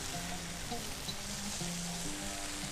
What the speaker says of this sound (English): And now you want to mix in the rice